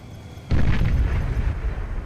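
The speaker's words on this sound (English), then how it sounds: "You can also avoid the nuclear explosion," A video-game nuclear explosion erupts half a second in as a sudden deep boom, then rolls on as a heavy, sustained rumble without any speech.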